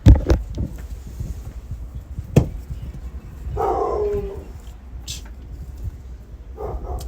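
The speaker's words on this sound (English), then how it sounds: "I dropped the controller and Max started barking" A dog barking indoors, a few short sharp barks near the start and midway, then a longer whining yelp, close and fairly loud over a low background rumble.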